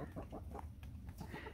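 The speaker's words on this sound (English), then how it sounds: "Look at those chickens go." Close, busy clucking from a flock of homestead chickens pecking at Grub Terra grub treats in Arizona, a dense run of quick overlapping clucks and murmurs with no talk.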